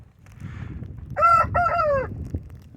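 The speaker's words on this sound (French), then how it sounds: "Oh, le petit coq, vous l'avez entendu?" A rooster crows one clear cock-a-doodle-doo over quiet outdoor background noise in a wintry Canadian henhouse yard, moderately close and alone without talk.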